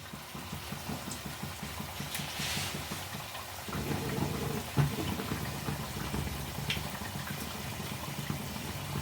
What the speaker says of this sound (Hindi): लो मीडियम फ्लेम पे मैं इसे फ्राई कर रही हूँ